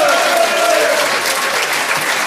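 Loud, close applause from a live audience at a French programming podcast taping, continuous vigorous clapping with a short whooping voice rising over it at the start.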